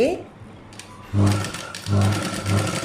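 A sewing machine runs a reverse stitch on a 36-inch blouse, whirring in three short bursts with brief pauses between, close and clear.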